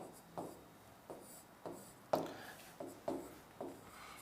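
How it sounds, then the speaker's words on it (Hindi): Pen strokes on paper during a lesson, a series of short scratchy bursts repeating roughly every half second, close and fairly quiet with no talk. "लो लिख देता हूं मैं"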